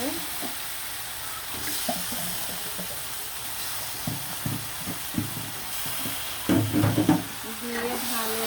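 Cut chicken pieces sizzle in a pan with garam masala and other spices, a steady frying hiss with scattered scrapes and clatters of stirring, busier near the end, with a voice speaking faintly underneath.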